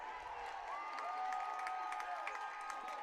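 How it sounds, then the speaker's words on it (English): A crowd cheering and clapping at a high school football playoff game between Pine City and St. Cloud Cathedral, distant and fairly faint, steady murmur of the stands with scattered claps and whistles. "Well, Cathedral's cheering."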